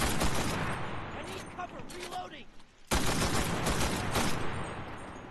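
Automatic bursts of BAR rifle fire in the WWII shooter Enlisted, loud and close, with a brief lull in the middle before the shooting resumes amid battle noise.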